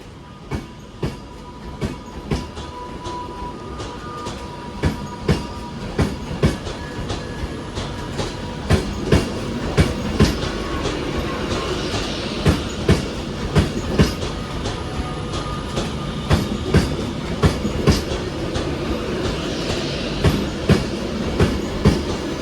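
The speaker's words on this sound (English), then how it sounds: "39047 railing off to London Euston" A Class 390 electric train, unit 39047, pulls out of Manchester Piccadilly bound for London Euston, with a steady rumble and rhythmic clickety-clack of wheels over rail joints repeating throughout, close and loud.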